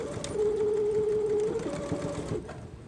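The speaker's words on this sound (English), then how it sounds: "back stitch at the beginning." A sewing machine runs a steady, close mechanical whir while back stitching along a zipper pouch, the tone shifting slightly as the stitch direction changes, then stopping.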